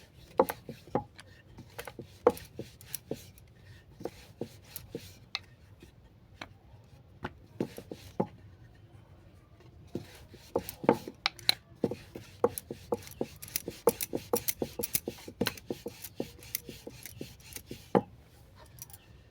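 A rolling pin flattens floured dough rounds into thin sheets for mushroom fried momos, making irregular close wooden knocks and taps against the board, mostly alone with brief quieter stretches.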